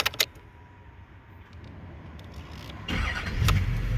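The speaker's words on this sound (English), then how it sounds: "So I'm going to start it because it's easier." A GM Duramax diesel Silverado truck cranks and fires up near the end after a few quiet seconds and a brief click at the start, its engine settling into a loud, low rumble close by.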